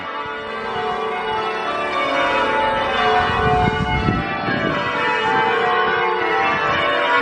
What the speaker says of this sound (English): And the bells just keep going.